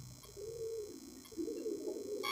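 Pigeon cooing close by, a soft low rolling coo repeated twice in a quiet setting of a pigeon loft in Belgaum, Karnataka, with faint background hum.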